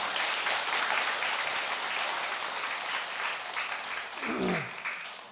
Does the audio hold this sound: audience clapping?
yes